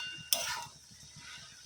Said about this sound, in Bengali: এখানে ঘি গলতে দিয়ে দিয়েছি